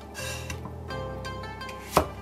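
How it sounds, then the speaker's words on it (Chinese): Knife chopping a cucumber into short chunks on a board, several firm cuts in an uneven rhythm with one sharp louder chop near the end, close and clear with no talk. "把这个黄瓜呢，给它头给它去掉，切， 一指高吧， 一指高的小墩儿"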